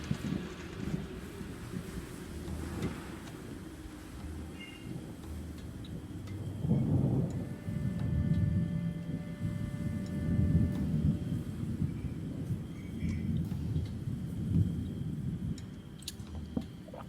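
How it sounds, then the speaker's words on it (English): Rolling thunder rumbles low and long through a stormy ambience of rain and wind, swelling midway and then lingering as a broad, sustained roar. "Rolling Thunder."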